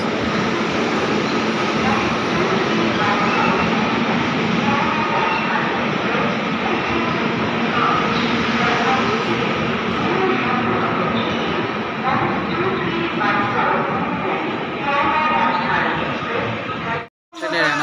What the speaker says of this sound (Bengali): আর এখানে চলে আসলো নিউ দিল্লি থেকে শিয়ালদা রাজধানী এক্সপ্রেস